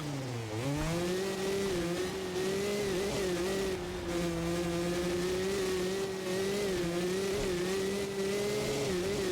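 A motocross bike engine racing in MX vs ATV Legends supercross, a steady high-pitched buzzing drone held close and loud throughout, with a brief dip in revs near the start.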